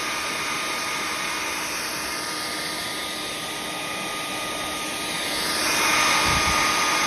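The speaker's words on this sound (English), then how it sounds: "We bought a hair dryer." A hair dryer blows steadily while drying hiking packs and gaiters, a continuous loud whooshing hum with no talk, swelling slightly louder near the end.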